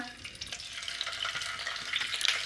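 Cardamom, cloves and peppercorns fry in a pan with onion paste for cauliflower rezala, giving a soft, continuous high crackle with faint stirring at low volume and no voices.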